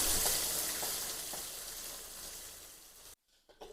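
Pork fries in a pan with a loud, crackling sizzle as it is stirred and mixed, fading gradually before breaking off abruptly into near silence with a few faint clatters after.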